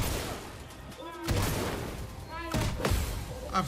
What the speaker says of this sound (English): I forgot how fast that cannon fires.